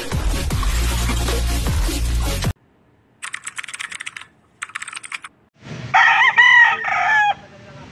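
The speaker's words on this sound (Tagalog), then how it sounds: "nandito na tayo sa bintahan ng mga manok" Roosters crow loudly in short bursts at a chicken market, after a stretch of busy clattering noise, with brief silences between the calls.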